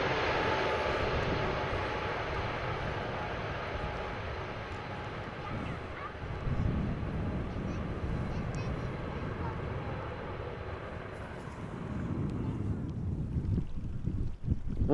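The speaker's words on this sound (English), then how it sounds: "Almost thought it wouldn't apply reverse thrust at all, but better late than never" An airliner lands at Amsterdam Schiphol Airport after rain and applies reverse thrust. The loud, steady engine roar builds and then fades toward the end, heard from a distance with wind noise.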